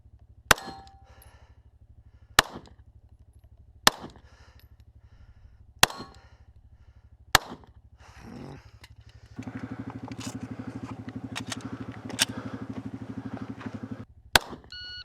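Sharp, loud handgun shots ring out one at a time, roughly every second and a half, during a practical shooting match stage at Desert Brutality 2020, a trench assault course in the armoured division, with a low rumble and faint voices between shots.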